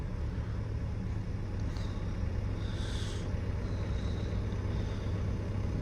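A Ford Kuga Mk2.5 engine idling steadily in gear after the clutch is released, a close, continuous low rumble with only a slight shift in revs and no voices.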